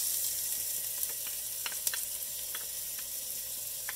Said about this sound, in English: Ginger's got a little bit more moisture in it, so it's gonna sizzle a little louder there.